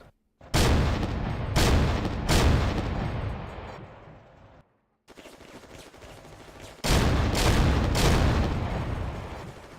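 Heavy bursts of Bofors anti-aircraft gunfire from a World War II online game, loud and close, firing in several sustained volleys with a brief pause between them, no voices over it.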